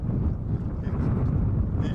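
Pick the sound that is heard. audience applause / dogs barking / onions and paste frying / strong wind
strong wind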